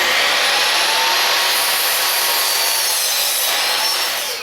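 A power saw cutting wood pieces to length for a shop air cleaner frame, a loud, continuous broadband whine that runs steadily close up before cutting off abruptly at the end.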